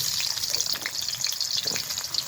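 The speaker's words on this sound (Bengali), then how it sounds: "তেলটা গরম হয়েছে, এইখানে দিয়ে দিব জিরে ফোড়ন, দিব কেটে রাখা আলুগুলো" Cut potatoes and cumin seeds fry in hot mustard oil in a pan, giving a constant bright crackling sizzle with dense popping, steady and close, no voices.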